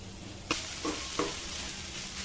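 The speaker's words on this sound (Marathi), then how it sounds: "आलं लसणाची पेस्ट टाकते आणि चांगली परतवून घ्यायची" Ginger-garlic paste sautéed in a pan while cooking paneer biryani, giving a soft steady sizzle with a few brief scraping stirs of a spoon, close and fairly quiet.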